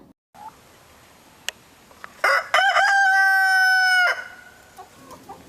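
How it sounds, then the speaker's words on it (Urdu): A rooster crows loudly and close by, one long drawn-out cock-a-doodle-doo that rises and holds for about two seconds after a few brief clucks and knocks, then fades into quiet. "چنٹو مرغا روز صبح اٹھ کر سورج کے نکلنے سے پہلے بآواز بلند بانگ دیتا تھا"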